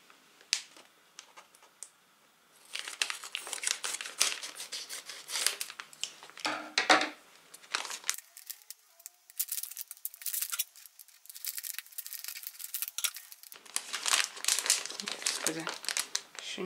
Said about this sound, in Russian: Ну, давайте их откроем и сами посмотрим.